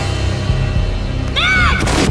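A single booming gunshot from a Max Payne cutscene cracks out near the end, loud over a dense, dark musical and ambient bed, followed by a ringing whine.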